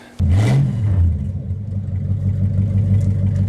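A 1956 Studebaker Golden Hawk V8 with an automatic transmission, on its first drive in 50 years, kicks to life and revs up once, then settles into a loud, steady near rumble that carries through to the end.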